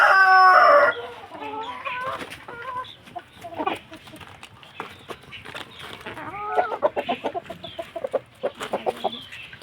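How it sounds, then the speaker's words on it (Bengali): Chickens and a rooster at a farmyard feeding spot, a crow opening into busy overlapping clucks and squawks, close and fairly loud, with no talking. "তো চলো, মুরগি ডাকা শুরু হয়ে গেছে।"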